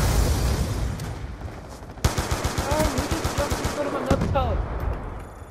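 Rapid automatic gunfire in the video game Call of Duty: Black Ops, a dense burst of evenly spaced shots in the middle with scattered single shots around it, loud and close, over game noise and players talking.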